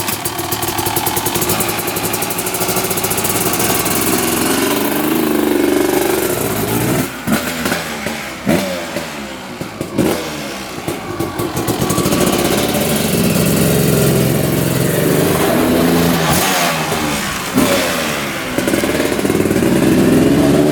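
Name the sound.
two-stroke quad engine idling and revving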